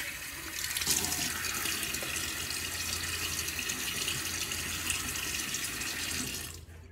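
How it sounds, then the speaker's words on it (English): A bathroom faucet runs in a steady, loud stream into the sink while someone wets their face before a wet shave, and the flow cuts off near the end. "Let me get my face wet."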